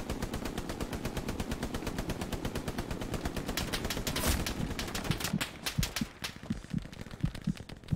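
Machine gun fire in the WWII shooter Hell Let Loose, from an MG position at sandbags on a bridge, rattles in sustained rapid bursts for about five seconds, then breaks into scattered single shots and short bursts.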